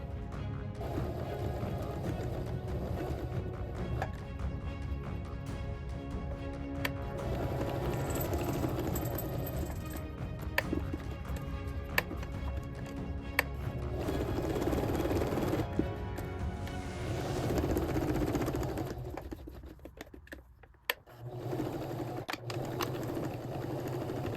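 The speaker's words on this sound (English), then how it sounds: "I think I'm going to sew a second time around." A sewing machine stitching a second pass around the border of a fabric bookmark, its motor whirring in a continuous close rhythmic drone for long stretches, with a brief pause and a few clicks near the end.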